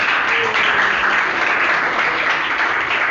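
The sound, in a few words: classroom applause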